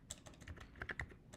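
Quiet, quick clicking of keys on a computer keyboard, a short run of irregular taps close by.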